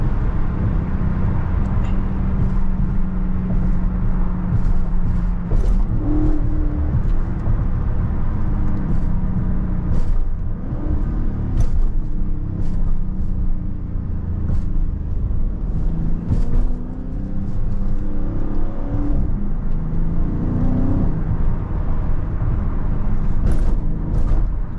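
A 500 hp Dodge Challenger Scat Pack Widebody Last Call driven in track mode over a bumpy road, its engine a steady low rumble from inside the cabin, with thumps and knocks from the bumps throughout.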